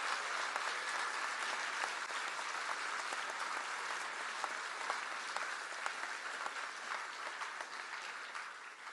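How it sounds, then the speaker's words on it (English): A large audience at a Labour Party election campaign event claps continuously, an even wash of applause heard from a distance, steady in volume with no voices over it. "let's give a big round of applause to Paul and all the Labour Party staff"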